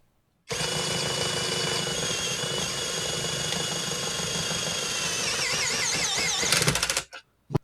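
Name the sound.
HyperTough brushless drill driver running at low speed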